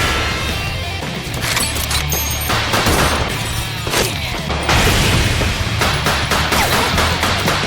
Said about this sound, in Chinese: 双方一边移动一边射击